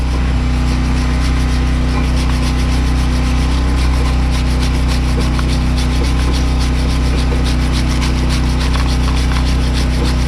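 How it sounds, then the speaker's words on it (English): A car brake caliper on a 2009 Nissan Altima is scrubbed clean with rapid, rhythmic back-and-forth rubbing strokes, loud and close over a constant low hum. "And now I'm going to clean off this brake caliper."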